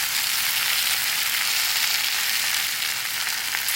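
Mushrooms and garlic sizzle steadily in a pan at a campsite, a dense, continuous frying hiss at close range with no voices over it.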